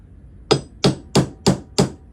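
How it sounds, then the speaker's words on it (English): Five sharp, evenly spaced hammer blows drive metal pins through the front bolsters of a knife, each strike a crisp close metallic tap about a third of a second apart, with no talking. "we'll drive them pins on through there a little bit so I can peen on"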